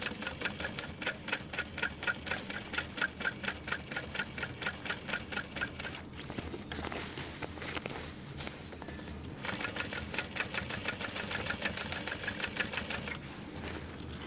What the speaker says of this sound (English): I like to use my screwdriver to help me press the binding into place while I'm sewing around it